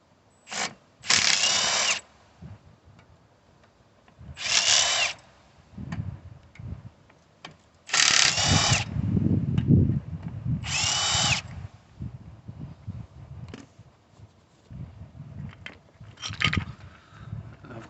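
Impact gun whizzing out brake bolts on a Ford Transit MK8 LWB during a roadside front disc and pad change: several short loud rattling bursts with pauses between, no talk.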